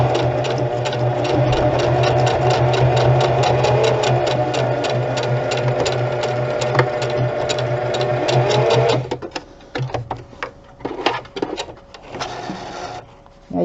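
Sewing machine stitching leather for a zip-around wallet, a fast, steady mechanical chatter running for about nine seconds, then stopping into short, irregular bursts and handling noises.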